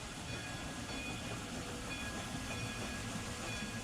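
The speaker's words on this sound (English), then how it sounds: "And I'm probably sure the train is going to be stopped on time." A video game train rumbles steadily as it slows to a stop at a station, a continuous low mechanical drone with faint hiss and no distinct clatter.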